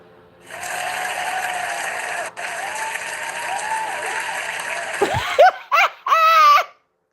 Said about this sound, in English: I need to get laughing sounds.